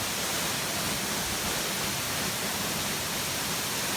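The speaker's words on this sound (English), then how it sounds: "it is an extremely impressive waterfall, probably 15 to 20 metres high" Lonnavale Falls in Tasmania, a waterfall roughly 15 to 20 metres high, pours out an even, full-bodied roar of broadband rushing water that stays steady and unbroken throughout, with no voices.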